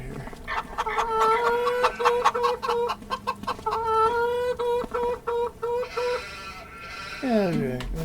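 Farm chickens cluck and squawk in a busy, close chorus of rhythmic calls, continuous across the clip, with a rising screech near the end.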